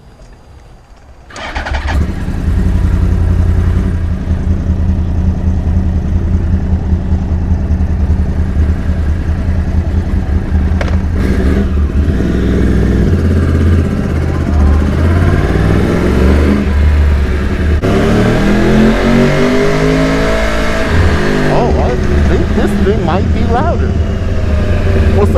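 A Yamaha R1 sportbike engine catches and settles into a loud, close, throbbing idle. Midway it is blipped and revved in rising and falling sweeps, several times in succession.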